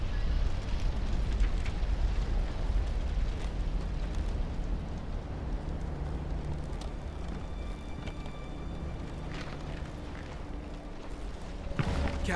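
Missile explosions in the Resident Evil 6 video game roar as a continuous, loud, close rumble of blasts and debris for the whole stretch, with a sharp fresh burst near the end and no talking.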